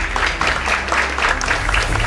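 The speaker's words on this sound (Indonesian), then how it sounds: "Tepuk tangan boleh buat BHS." Studio audience applauding a sponsor during a talk show, a steady wash of clapping that fills the whole stretch at moderate loudness.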